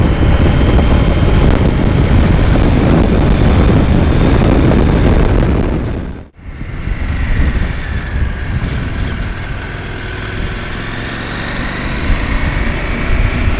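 A Husqvarna Norden 901 Expedition motorcycle engine runs at low revs, around 3,500 rpm in fourth gear, while being ridden. It gives a close, loud, continuous roar mixed with wind rush, and drops out briefly at one point before resuming.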